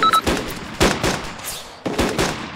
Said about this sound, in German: Jetzt schießen sie zurück.